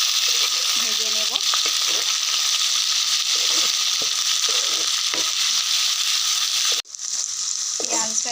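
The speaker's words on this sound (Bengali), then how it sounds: "দিয়ে এই পেঁয়াজ কুচিগুলো দিয়ে দেব। দিয়ে এটাকে ভালো করে ভেজে নেব।" Chopped onions sizzle steadily in hot oil in a pan while being fried for a duck curry, a loud continuous hiss broken by occasional stirring scrapes and a brief dip near the end.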